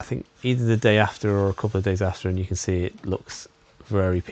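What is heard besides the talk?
No distinct noise like a dog, phone or traffic.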